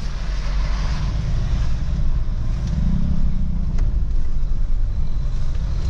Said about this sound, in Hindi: ओ देखो ट्रैक्टर वाले को, ये लग ऑफ रोडिंग कर रहा है।